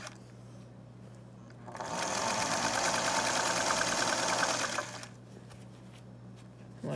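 A Featherweight sewing machine stitches in one steady, loud burst of about three seconds, its rapid mechanical whir starting and stopping cleanly against a quiet room with no talk.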